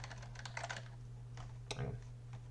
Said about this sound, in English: I just typed in Minecraft font.